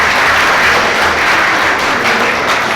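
Enthusiastic audience applause at a poetry recital, a dense, loud, even wash of clapping from many hands throughout, with no voices over it.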